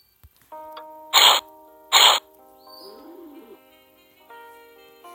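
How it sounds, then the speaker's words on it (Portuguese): Electronic tones hum under two short bursts of harsh noise, followed by a brief chirpy bird-like call, a bird sound effect in the puzzle game Cube Escape: Harvey's Box. "Um passarinho."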